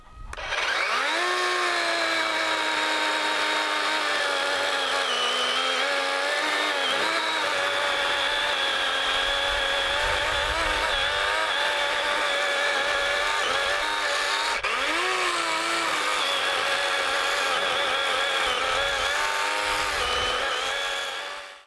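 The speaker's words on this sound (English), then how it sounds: "I will just chainsaw it down to about the level of the bricks" A loud, steady chainsaw runs continuously close by, cutting down a tree trunk, its high whining drone dipping in pitch a few times as it bites into the wood.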